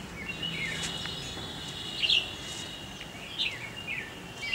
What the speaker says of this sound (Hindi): देखिए सब चिड़ियों की आवाज़